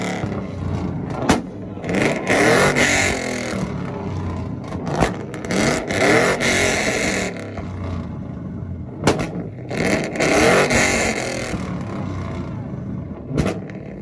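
A Suzuki engine revs hard on a two-step limiter in repeated bursts at a rev battle, with sharp crackling pops between them, loud and close, mixed with scraping noise.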